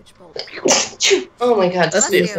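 A single sharp sneeze bursts out among a group of tabletop role-playing players, loud and close, with people talking before and after it.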